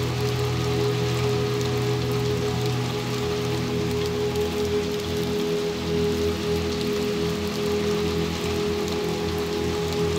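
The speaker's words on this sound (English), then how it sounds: "Is it snowing? Oh, that was rain." Steady rain falls in the video game Little Nightmares 2, a continuous dense patter on surfaces with a low ambient hum beneath, even and sustained throughout with no talking.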